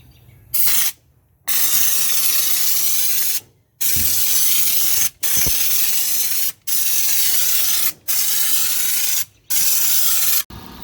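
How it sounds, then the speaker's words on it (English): A spray gun on an air line sprays Raptor bedliner onto a 1981 Jeep CJ5, loud close hissing bursts in about seven trigger pulls of one to two seconds each, broken by short silent gaps. "Let's get to spraying."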